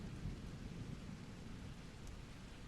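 Distant thunder rolling faintly beneath a wash of steady rain, one low sustained rumble with no voices.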